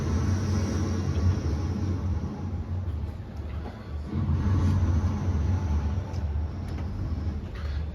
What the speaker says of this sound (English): So I listen to Injari, then this is the sound of the sea